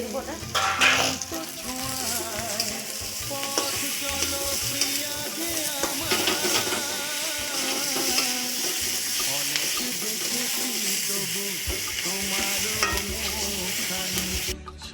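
Lightly marinated brinjal and potato frying in a pan, a close, steady sizzle and hiss with clattering stirring throughout.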